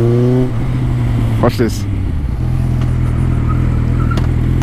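A Japanese motorcycle, a Suzuki GSX650F, its engine revving up and dropping back to a steady loud idle close by, with someone speaking briefly over it.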